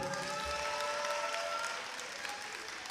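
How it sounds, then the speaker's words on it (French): An audience at a beauty pageant breaks into dense, sustained applause with some crowd noise, heard from a distance and fading slightly toward the end. "Acclamez-vous, s'il vous plaît."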